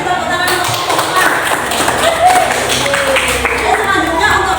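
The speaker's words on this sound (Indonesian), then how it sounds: "Beri tepuk tangan untuk kelompok" Applause for a presentation group in a training-class session, a short burst of clapping from a small audience, close and fairly loud, ending with a few scattered claps.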